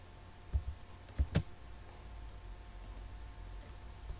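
Computer keyboard keys struck a few times in quick succession while entering a command in AutoCAD, faint and close in a quiet room, followed by low background hum.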